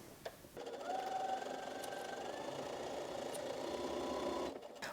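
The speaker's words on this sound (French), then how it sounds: "Et je fais la couture." An electric sewing machine stitches a seam on fabric for a winter hat, running at a steady even whir for about four seconds with sharp starts and stops at each end, close and alone.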